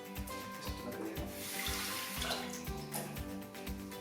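Chopped shallots are rinsed under a running kitchen tap for a salad, with water splashing steadily and gurgling in a sink at close range.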